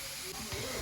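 Carrots and vegetables sizzle and hiss as they fry in a pan for a broccoli salad, a brief steady crackle with a voice faintly present underneath.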